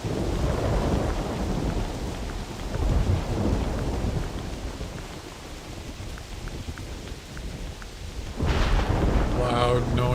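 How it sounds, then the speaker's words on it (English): Thunder rumbles heavily through steady pouring rain during a thunderstorm in the hunting game theHunter Classic, a loud continuous roar that swells again near the end, with someone talking briefly. "Thunder and lightning. Here we go. It's going to get nuts and loud."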